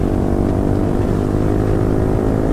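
A loud, close Yamaha R15 V4 motorcycle with an Akrapovic exhaust, its engine droning with a dense, rumbling note that holds steady throughout.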